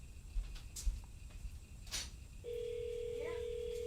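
A phone rings after being dialed through an Alexa smart speaker, a steady electronic ring tone that starts partway through and continues, following some faint indoor rustling and clicks.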